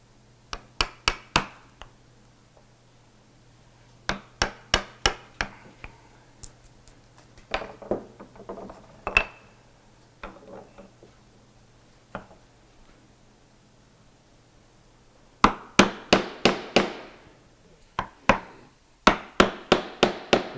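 A mallet strikes a chisel while a wood mortise is cut, sharp hollow knocks arriving in quick groups of several blows with short pauses between, close and clear with no talking.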